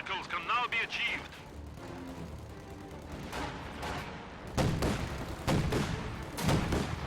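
An Ostwind flak tank in a video game battle fires on an enemy mortar, several sharp loud bursts of cannon fire in the second half, following quieter battlefield ambience and a short voice line.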